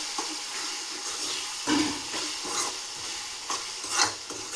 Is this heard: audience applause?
no